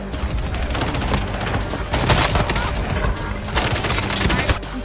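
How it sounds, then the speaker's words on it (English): Video game fireworks shooting at the player, a dense rapid crackle of pops and bursts that keeps going in loud waves, with a short lull before it picks up again. "Why are the fireworks still shooting at me?"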